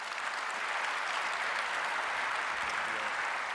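Steady, dense applause from a large audience filling a conference plenary hall at the SC24 high-performance computing conference, sustained evenly throughout without breaks.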